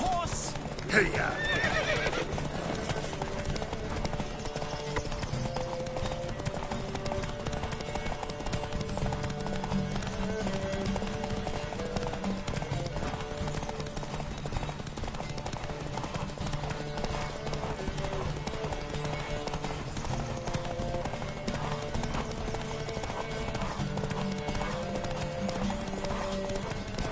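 Horses gallop in a race in The Witcher 3 video game, with a fast, continuous clip-clop of hooves, a neigh near the start, and a rider's voice over the hoofbeats.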